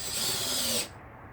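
Cordless power drill driving a screw into a plastic car storage fitting, a close, steady buzzing whir lasting under a second before cutting off abruptly.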